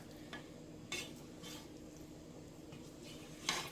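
Macaroni cooked in milk is stirred in a pan as the liquid cooks off, with a few quiet scrapes and taps of a spoon over a low, steady background, close but faint.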